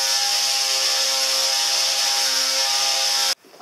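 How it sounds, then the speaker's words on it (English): Wood pieces for an Aztec-style table top are sanded with 240 grit sandpaper, likely by a power sander: a loud, steady motorized whir that runs continuously, then cuts off abruptly near the end. "sand it with some 240 grit sandpaper until it's smooth to the touch"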